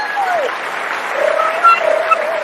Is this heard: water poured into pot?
no